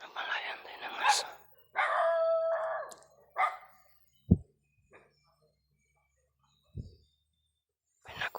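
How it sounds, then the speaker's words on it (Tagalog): A dog barks and howls off in the distance, mixed in with people talking, followed by a few sharp isolated sounds with quiet stretches between them. "May aso naman sa bandang itaas."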